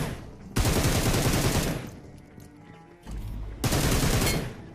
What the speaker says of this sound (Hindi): लेकिन नीचे से भी फायर आ रहा है